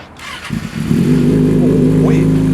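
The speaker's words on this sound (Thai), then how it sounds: "เดี๋ยวลองลองฟังเสียงเครื่องยนต์กันฮะ" A used big bike motorcycle engine cranks and catches after half a second, then settles into a loud, steady idle with a low throbbing hum.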